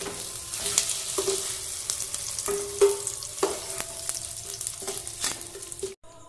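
Paneer frying in oil for a vegetarian Maha Ashtami thali, a steady close sizzle broken by repeated clinks and scrapes of a spatula against the pan, ending in a sudden drop to near silence.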